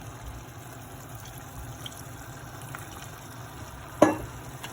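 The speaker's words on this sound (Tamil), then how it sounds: "இப்போ இதை போட்டு கிண்டுவோம்." Salted onions frying in a pan for Jaffna-style chicken curry are stirred, giving a low, steady sizzle and one clear spoon scrape against the pan near the end, with no one speaking.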